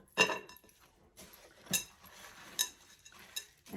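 Utensil clinking and scraping in a bowl while meatloaf ingredients are mixed with saltine crackers and about half a cup of milk; a few sharp, separate clinks come close and fairly loud, with quiet gaps between them and no talk.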